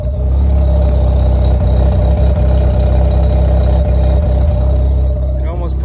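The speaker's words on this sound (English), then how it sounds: "RX-7 I drove that sounded like this" A 1999 Mazda RX-7 rotary engine runs loud and close at a steady idle, a deep buzzing drone held for several seconds with slight wavering and no voices over it.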